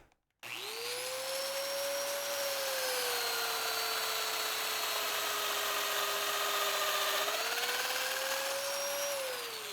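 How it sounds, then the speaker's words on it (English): A domino joiner cuts a mortise into mitered window trim, starting abruptly and holding a loud, steady high-pitched motor whine with a dust-extraction hiss for several seconds, the pitch dipping slightly partway through. "and then I drill my domino."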